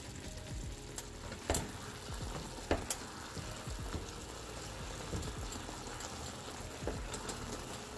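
Ground meat for Hamburger Helper fries in a pan, a soft, steady sizzle with scattered clicks of stirring, fairly quiet and heard alone.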